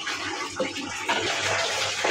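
Fish fries in hot oil in a nearby kitchen, making a dense, continuous, loud sizzling hiss with slight surges and no pause.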